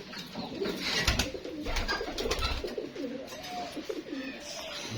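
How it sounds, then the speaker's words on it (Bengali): Fancy pigeons coo in a loft, soft rolling calls repeating close by, joined by a few sharper chirps and fluttery knocks in the background. "এখানে ফেন্সি কবুতরের লফট।"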